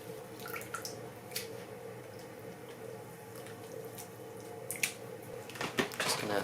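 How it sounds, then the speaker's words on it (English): Moss swished by hand in a bucket of water, making soft irregular sloshes and drips that grow busier and louder toward the end. "Just gonna swish it out a bit, try and get some dirt out."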